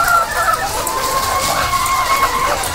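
Chickens on a rural farm raising RTL chickens cluck and call in a steady, fairly loud chorus, with drawn-out crowing-like notes close by.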